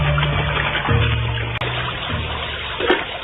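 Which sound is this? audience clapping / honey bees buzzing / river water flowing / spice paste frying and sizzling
river water flowing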